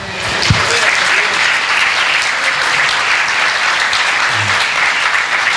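A large church congregation applauding loudly and continuously, a dense wash of clapping that holds steady throughout.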